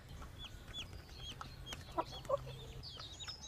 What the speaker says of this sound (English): I've forgotten to feed the chicks